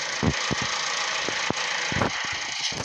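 A tractor engine in a farming video game labours and fails to rev, giving a continuous rough rumble broken by uneven low knocks and thumps.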